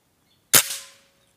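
A Reximex Zone air rifle fires a single slug pellet, one sharp, close crack with a short fading ring and no voices.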